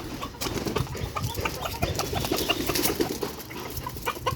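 Ten-month-old Fayoumi chickens in a rooftop shed cluck and call in a busy, overlapping stream, close by and moderately loud, with no talking.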